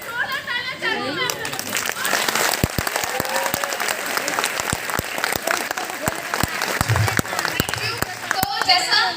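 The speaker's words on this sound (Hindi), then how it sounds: "एक बार हाथ करके जोरदार तालियां चाहती हूं" Seminar audience in Guwahati breaks into strong applause, continuous clapping with sharp individual claps cracking through, while a voice and some chatter carry on over it.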